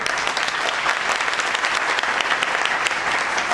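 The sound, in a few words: loud audience applause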